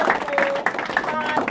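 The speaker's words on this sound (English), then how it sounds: "Big round of applause." Short burst of crowd applause at a Newcastle council election victory speech, clapping mixed with a voice speaking over it.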